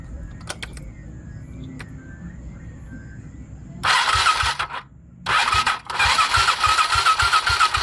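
A motorcycle engine with a compression problem cranks over with a few clicks and ticks, then fires into a loud, close, rough idle, briefly dips and catches again, running with a throbbing beat.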